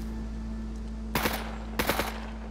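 Gunfire in the survival game Scum: two short automatic bursts, each a quick cluster of cracks, stand out over a steady low hum with a pause between them.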